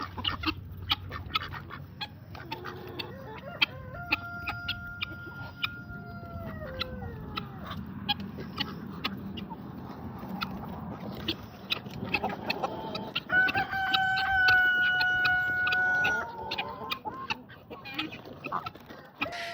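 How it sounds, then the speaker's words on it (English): Backyard chickens cluck and squawk busily as they scramble around carrying pieces of breakfast food, a dense mix of near and far calls with a louder burst of cackling toward the end. "All you see is chickens running around with pieces of food in their mouth"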